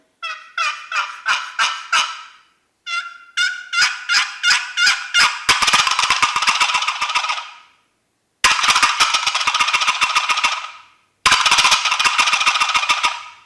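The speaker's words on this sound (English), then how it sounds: "it's a great gobbling call, and I'll demonstrate it for you" Loud, close turkey gobbling sounded on a Crossland wooden box call, in rapid rattling bursts repeated several times with short pauses between, no voices over it.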